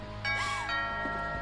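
A doorbell chime rings in What Remains of Edith Finch, a clear two-tone ding-dong with a ringing tail and a softer echo after it, standing alone.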